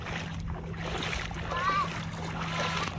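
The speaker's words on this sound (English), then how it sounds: "Run through the water. Because you're at the river." A child runs through shallow river water, with close, brief splashes of feet under steady talk from an adult and the child.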